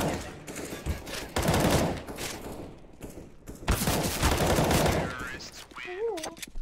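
Video game gunfire as dense bursts of rapid automatic shooting and loud crackling volleys, mixed with game effects and heard under overlapping talk.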